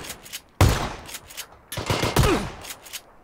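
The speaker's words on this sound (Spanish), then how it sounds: "le he dado dos tiros con la escopeta" Two loud, close shotgun blasts in PUBG, the first near the start and the second a second later, each followed by short echoing bursts of gunfire.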